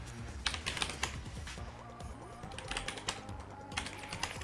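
Steady typing on a computer keyboard while entering a Linux command for a Terraria dedicated server, a continuous patter of key clicks at moderate level with a few louder keystrokes.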